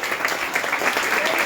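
A church congregation claps steadily together at a New Year worship gathering, a continuous dense wash of hand claps throughout the short stretch.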